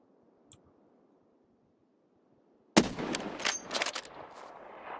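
Sniper rifle gunshots in the video game Escape From Tarkov, played in PvE mode: a cluster of sharp, loud reports and clattering follow-up blasts bursting in after a near-silent lead-in.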